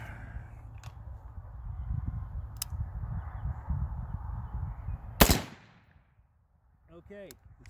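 A bird calls outdoors in a short burst of harmonic, wavering cries near the end, after a loud gunshot crack from an AR pistol cuts through steady background rumble and then falls quiet.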